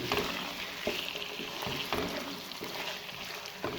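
Chicken frying in a pan for a chicken curry with peas and potato, a steady hiss of sizzling broken by several sharp stirring scrapes and clatters at irregular intervals, close and moderately quiet.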